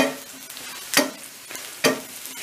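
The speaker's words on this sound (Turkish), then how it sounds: "Şöyle karıştırıyorum." Chicken browned with thyme being stirred in a frying pan: a steady low sizzle broken by three sharp scraping sweeps of the utensil, close up.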